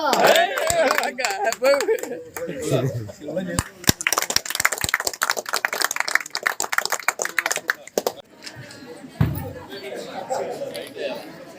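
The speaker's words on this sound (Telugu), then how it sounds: "సిద్ధాంత్ గారు క్లాప్స్ క్లాప్స్" An audience at a Telugu film event claps in bursts of sharp, scattered hand claps, dense in the middle and tapering off, mixed with chatter and voices talking over it.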